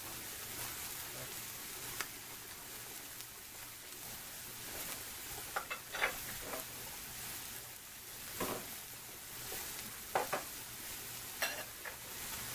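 Onions and peppers cooking on a Blue Rhino outdoor griddle, a faint, even sizzle with scattered spatula scrapes and taps throughout.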